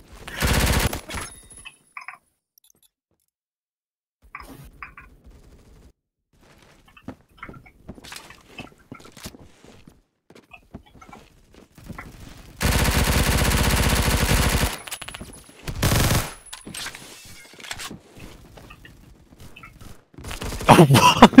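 Automatic gunfire from a shooter video game in a warehouse king-of-the-hill match, with a loud sustained burst of shots and a shorter later burst between sparse quieter game noises.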